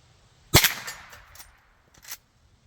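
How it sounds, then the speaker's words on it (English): A single sharp gunshot from a Henry lever-action rifle chambered in .32 H&R Magnum, loud and close, followed by a decaying echo and a fainter second report near the end. "The Henry is always a pleasure to shoot the .32 caliber family out of."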